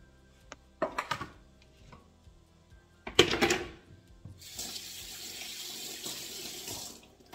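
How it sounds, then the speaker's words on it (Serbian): Kitchen tap running while a serving tray is washed at the sink, with a couple of clanks of the tray before a steady stream of water pours on, fairly close and moderate in level. "Prebacit ću u butu tepsiju kako bih mogla da operem ovaj posluženik"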